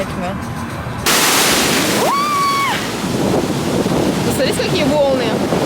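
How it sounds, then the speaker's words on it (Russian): Sea waves surging against the hull of a big ship on the way to Corsica, a loud continuous rush mixed with strong wind buffeting the microphone, with brief voices over it. "Посмотрите, какие волны."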